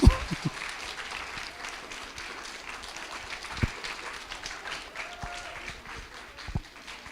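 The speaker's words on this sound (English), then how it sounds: "one round of applause for all of them" Applause from an audience at a Chinmaya Mission children's event, a steady moderate round of clapping with a few louder claps at the start and voices murmuring underneath.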